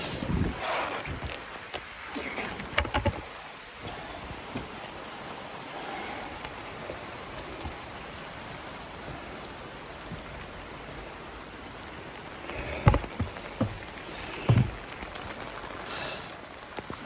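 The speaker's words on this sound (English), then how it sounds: "so we literally had a downpour then, absolute downpour" A heavy rain downpour drums steadily on a campervan roof, a dense continuous hiss with scattered louder drips and knocks throughout.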